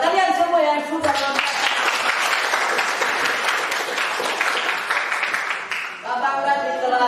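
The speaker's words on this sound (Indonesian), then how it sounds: "Sekali lagi berikan aplaus yang meriah kepada kalian semua" A grade 10 science class at an Indonesian high school bursts into lively applause for several seconds, steady and full, with a teacher's voice speaking just before and right after it.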